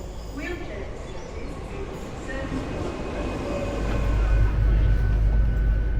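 Steady low rumble and rattle inside a moving Great Western Railway train carriage, growing louder toward the end, with faint squeaks over the drone.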